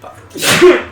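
A single sharp sneeze bursts out close by during a tabletop role-playing game session, with a short inhaled lead-in before the loud release.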